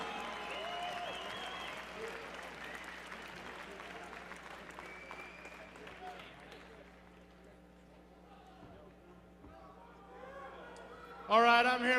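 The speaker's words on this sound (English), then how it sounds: "Let's get him a round of applause" Crowd applause at a mixed martial arts fight night, a broad roar of clapping under an announcer's amplified voice that gradually fades and thins before a louder burst returns at the very end.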